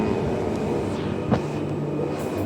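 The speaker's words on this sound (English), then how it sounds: "we'll send the train out" Train on the Ellenbrook line moving off, a low steady rumble with a faint tonal hum and a brief sharper burst midway, moderately distant.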